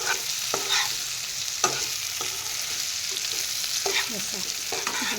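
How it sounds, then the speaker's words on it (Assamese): A spatula stirs fried brinjal with softened onions in a hot pan, giving scattered scraping knocks over a steady sizzle throughout. "তল ওপৰ কৰি এনেদৰে লৰাই দিলোঁ"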